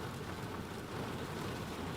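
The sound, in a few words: heavy rain on a car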